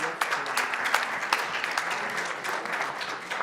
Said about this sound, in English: So very good, I think big applause for them.